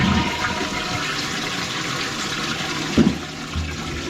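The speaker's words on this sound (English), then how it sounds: "we'll give it a couple of flushes" A household toilet flushes with a steady rushing swirl of water throughout, heard close up in a bathroom after plumbing repair work, with a brief clunk of the handle or fittings near the end.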